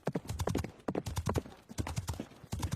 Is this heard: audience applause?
no